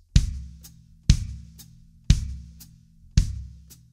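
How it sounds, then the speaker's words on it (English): A drum kit plays an alternating pattern of kick drum and hi-hat pedal strokes, close and clear with no talk. Four deep kicks fall about a second apart, each followed half a beat later by a short, crisp chick. "Okay, hi-hat foot at the same time as the kick drum."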